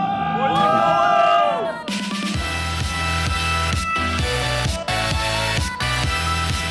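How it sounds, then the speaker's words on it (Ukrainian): An audience cheers and whoops loudly as a comedy team from Lviv heads onto the stage, and the noise gives way to loud, rhythmic stage music with a pounding beat. "Давайте більше, більше овацій, друзі!"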